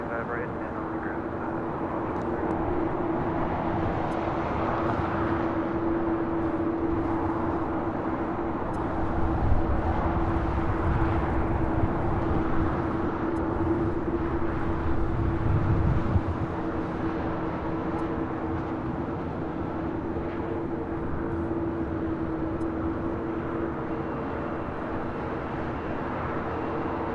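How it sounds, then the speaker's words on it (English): A Boeing 787-10 Dreamliner arriving at LAX from Tokyo Haneda gives a steady, distant jet engine drone. The rumble swells slightly mid-way, then stays even throughout, with radio voices talking over it. "Flight 38 coming in from Tokyo Haneda"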